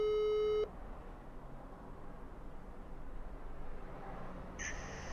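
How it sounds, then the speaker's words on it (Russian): A telephone line gives a steady busy tone that cuts off after about half a second, leaving a low hiss on the line, and then a brief high tone comes in near the end. "Звоню в Москву. Странно, почему-то не отвечает."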